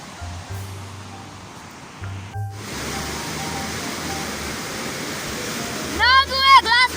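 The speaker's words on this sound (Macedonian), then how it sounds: "Много е гласна водата!" Loud rushing water on a mountain hike, a broad steady roar that swells after a brief dip, with a voice speaking over it near the end.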